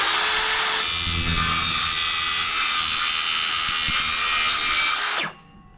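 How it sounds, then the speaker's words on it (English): A power saw blade bites through an aluminium composite fence part, a loud, sustained high-pitched whine for about four and a half seconds that stops abruptly, leaving a faint tail. "Forgot that was aluminium, not gonna lie. Shouldn't have done that with that blade"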